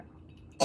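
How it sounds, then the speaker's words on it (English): A single short cough from a man, a sharp burst near the end after quiet room tone, close and fairly loud. "Hold on, I'm gonna cough."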